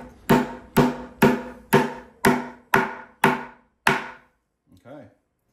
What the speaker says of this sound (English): we're gonna hammer those directly into the legs